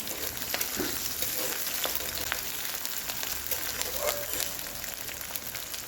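Chopped onions sizzle and crackle steadily in a hot pan, a dense close frying hiss with occasional pops and light stirring.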